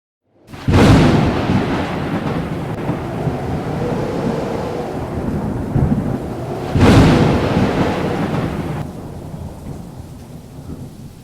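A Kalbaishakhi nor'wester storm sweeps over a village: two loud, close thunder cracks roll out several seconds apart over continuous heavy rain and wind, with no voices.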